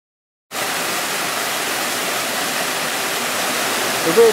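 Jetboil gas stove running low on fuel, giving a steady, even roar like rushing water that starts abruptly after half a second of silence and holds close and constant with no talk.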